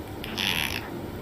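A house cat gives a short, strange throaty vocalization, a brief strained rasp rising over steady low background rumble, close and fairly loud for under half a second before fading.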